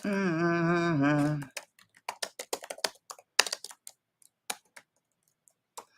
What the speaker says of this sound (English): I was just typing in my stuff.